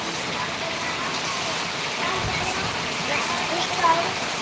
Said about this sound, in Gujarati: જો આ ધમધમાટ વરસાદ ચાલી રહ્યો છે